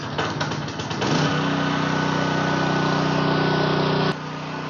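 A Philking PK160A welding machine running on AC power gives a loud, steady electrical buzz that holds unbroken for about three seconds after some rough crackling, then drops off sharply near the end.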